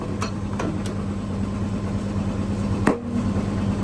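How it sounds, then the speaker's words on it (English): Over a constant machine hum at a tyre shop, a few faint clicks are followed by one loud, sharp pop as the tyre bead snaps onto the rim of a Suzuki Swift ZXi wheel during inflation. "there will be a pop sound when tire touches to the rim"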